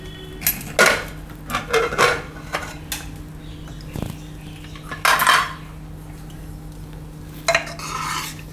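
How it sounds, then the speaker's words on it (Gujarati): A pressure cooker of mixed dal and bottle gourd curry is opened in a home kitchen, with sharp metal clinks and scrapes of lid and ladle coming in irregular bursts, close and fairly loud, with no speech. "તો કુકર આપણે હવે ખોલીને જોઈ લેવું"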